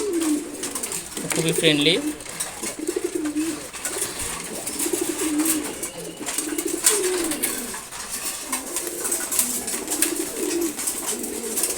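A young, unpaired pair of silver gorra pigeons coos in soft, repeated low phrases at close range during morning feeding, with a person talking throughout.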